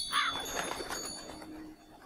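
A bird call sounds briefly near the start in the dark adventure game Maestro 4: Dark Talent, followed by soft ambient game sounds at low volume.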